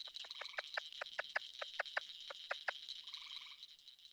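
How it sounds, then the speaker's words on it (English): An eastern gray tree frog gives a rapid series of about a dozen sharp, bird-like chirps in steady rhythm, close and clear, over a constant high insect drone, followed by a brief trilling call. "what you were hearing that sounds like a bird is an eastern gray tree frog"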